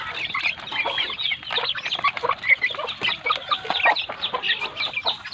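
Native chickens cluck busily while being fed, a dense, continuous chorus of overlapping clucks and short calls from several birds close by, with no talking.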